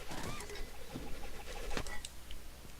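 A bird coos softly in The Legend of Zelda: Breath of the Wild, faint, low calls repeating over a steady hiss of rain.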